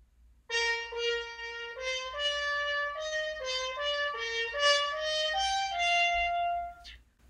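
A trumpet plays steady quarter notes, one per beat, moving stepwise in a smooth, connected phrase from Berlioz before stopping abruptly.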